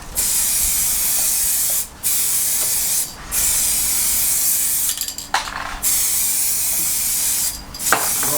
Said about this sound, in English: Now with the 2K clear coat.